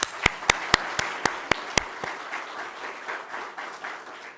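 A round of applause from a crowd at a government housing event, opening with several sharp, loud, evenly spaced claps up close before settling into softer, scattered clapping.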